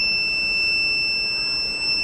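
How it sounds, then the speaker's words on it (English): A railway track defect detection system sounds a buzzer alert, a loud, continuous electronic tone with a bright steady pitch. It holds unbroken for about two seconds and sits close to the mic over faint background hiss. "whenever the track detected, then the system will sending the alerts"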